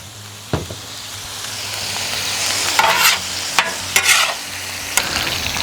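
Red wine sizzles and hisses on a hot Halo Elite4B griddle while lasagna is being made, a steady frying wash with a low hum beneath and a few sharp scrapes and clatters of a utensil.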